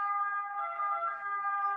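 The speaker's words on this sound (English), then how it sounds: "Sorry for the sirens outside." A wailing emergency siren, steady and slightly muffled as if from outside, with no talking.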